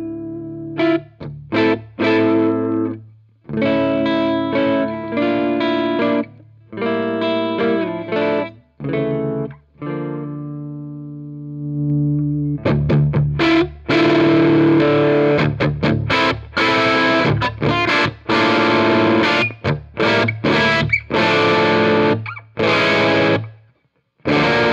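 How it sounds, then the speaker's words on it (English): An electric guitar with Gibson Custombucker pickups, tuned to drop D and played through a Cherry Tone amp, with heavily distorted metal riffs of chugging palm-muted bursts and ringing chords, loud and close, no voices. "This is the sound of the guitar going into the Cherry Tone."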